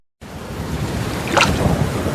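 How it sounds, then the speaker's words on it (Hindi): Strong wind gusting in a rainstorm, a loud continuous roar that starts abruptly and builds, with a low rumble of thunder underneath, no voices. "तेज हवा चलने लगी और जोर से आसमान गरजने लगा"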